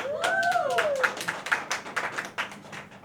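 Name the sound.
audience applause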